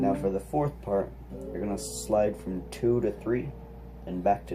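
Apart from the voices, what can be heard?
No everyday noise stands out behind the speech.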